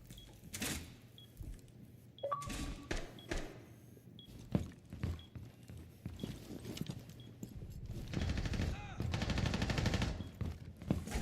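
Bursts of gunfire from a PC shooter video game, including a buckshot shotgun, crack out in short volleys and a longer sustained rattle toward the end, with a player talking between shots.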